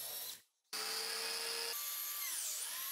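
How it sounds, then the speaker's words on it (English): A power tool cuts and machines an L-shaped plywood part for the back of a router tabletop, with a short whirring burst, a brief stop, then a sustained steady high-pitched whine that shifts pitch near the end. "Now I'll cut and machine the L-shaped plywood part for the back of the router tabletop."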